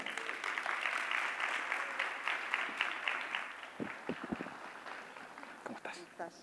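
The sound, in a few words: audience applause welcoming a speaker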